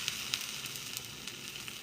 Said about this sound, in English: I can hear it sizzling.